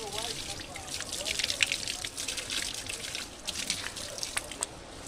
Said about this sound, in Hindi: तो पाइप से ठंडा ठंडा पानी आ रहा है, जैसे जी फ्रिज का पानी हो।